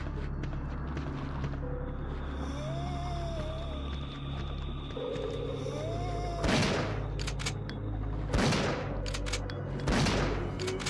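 Three sharp gunshots ring out from a GameCube copy of Resident Evil 3 Nemesis, spaced about two seconds apart over a steady game soundscape, each a loud, crisp crack with a brief tail.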